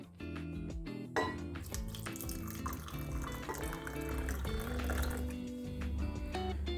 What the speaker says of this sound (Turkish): Daha sonra da üzerine kaynar su dökeceğim.